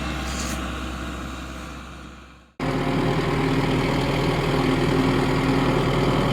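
A farm tractor engine idles with a steady low rumbling drone, cuts out abruptly, then starts again at a slightly louder, even idle.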